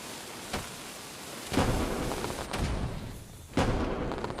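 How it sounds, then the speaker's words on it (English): Fireworks going off on a map in the mobile battle royale game PUBG Mobile: four deep booming bursts about a second apart, each rumbling into a steady, noisy background, with no talk. "Makes sense to have some fireworks around."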